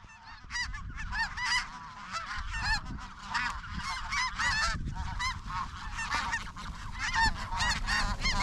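A large flock of snow geese honks continuously and loudly overhead at dawn during a hunt, a dense chorus of overlapping calls with a low rumble beneath.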